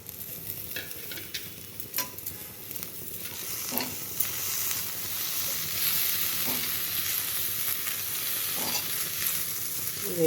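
Curry leaves and coriander fry and get stirred in a pan, a steady close sizzle with scraping spoon strokes and occasional clicks against the metal, no voices.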